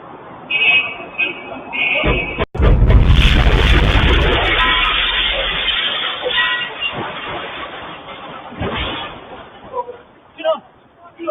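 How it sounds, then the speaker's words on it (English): An R-IX Ginzu missile streaks in with a sharp crack followed by a loud, sustained roaring rush, supersonic just before impact, which then tapers away into scattered fainter noises. "you can hear the Hellfire missile go supersonic just before impact"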